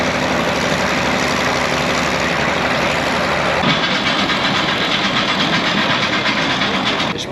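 Tractor engine at a tractor pull contest, hauling a concrete block: a loud, steady mid-pitched roar that holds throughout, its tone shifting and roughening partway through.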